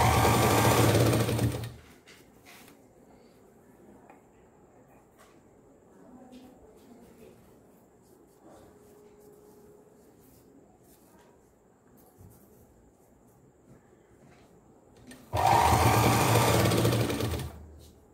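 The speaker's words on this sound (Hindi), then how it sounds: "तो इसी तरह हम फोल्ड करते जाएंगे और उस पर सिलाई लगाएंगे।" Sewing machine stitching folded cotton cloth for a homemade newborn langot diaper, with loud steady whirring runs at the start and end and a quiet stretch in between.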